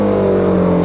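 A BMW G 310 R motorcycle engine droning loudly and close at steady pitch as the rider downshifts, a continuous smooth mechanical tone with no speech over it.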